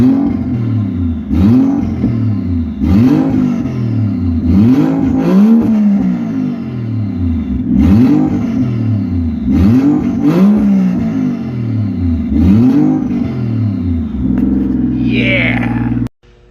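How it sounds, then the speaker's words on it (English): Repeated free revs from a Lexus IS300 on a straight-pipe exhaust, each throttle blip rising and falling in a steady rhythm with turbo whoosh and flutter between them, loud and close, before the engine settles to idle and cuts off. "Some turbo sounds."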